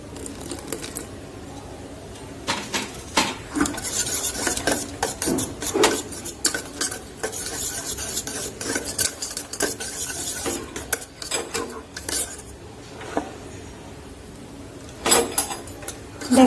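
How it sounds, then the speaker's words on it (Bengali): Boondi batter gets a little water stirred into it with a spoon, giving repeated soft scrapes and clinks against the bowl in an uneven rhythm, close and moderately loud in a quiet kitchen. "আমি এর মধ্যে সামান্য পরিমাণ জল মিশিয়ে দিচ্ছি"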